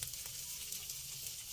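Onions sizzle softly in a frying pan with a steady hiss and occasional stirring scrapes, fairly quiet and continuous with no voices.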